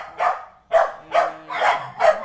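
Small dogs bark repeatedly indoors, five loud, sharp yaps in a steady rhythm about half a second apart, close by and with no talking over them.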